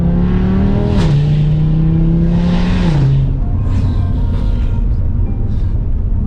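Full Milltek exhaust on a 2019 Audi RS3 drones steadily from inside the cabin under acceleration, its pitch climbing and dropping back through two gearshifts, with a loud, continuous roar and no talking.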